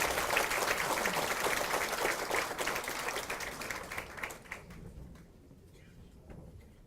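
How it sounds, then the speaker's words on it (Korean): An indoor crowd at an Incheon political campaign rally applauds to welcome newly elected local election winners. The clapping is dense and sustained at first, then thins out and fades over the last couple of seconds. "자, 여러분 큰 박수로 환영해 주시기 바랍니다."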